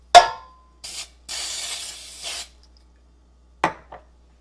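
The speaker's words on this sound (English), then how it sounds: "now we'll grease the loaf pan with our cooking spray" Short hissing bursts of aerosol cooking spray onto a loaf pan, several quick sprays with pauses between, close and fairly loud, with a clink at the start and end.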